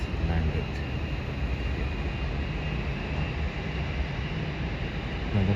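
A Jetstar Boeing 787 rolls along the runway just after landing at Melbourne airport, a steady, loud, broadband roar of engine and air noise that lasts the whole stretch, with no clear voices over it.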